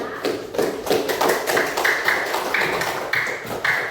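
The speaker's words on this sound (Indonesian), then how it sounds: "Ya, tepuk tangan buat kalian semuanya." Classmates clapping for a student group in a classroom, a loose patter of hand claps with uneven rhythm, fairly close, with faint background voices.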